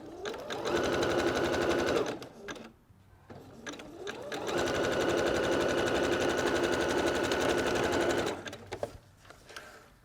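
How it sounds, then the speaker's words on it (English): A sewing machine zigzag-stitches elastic onto a bra in two runs, a steady close buzzing rattle for about two seconds, a short pause, then a longer run of nearly four seconds before stopping. "Once you've done your first line of zigzag stitching, you're going to flip it over and then just do your second line to secure it in place."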